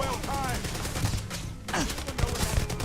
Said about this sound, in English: Bullets bouncing right off.